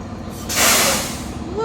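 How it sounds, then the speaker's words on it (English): A tow truck lets out a short, loud burst of air brake hiss from nearby, surging and fading within about a second. "I think it's a tow truck."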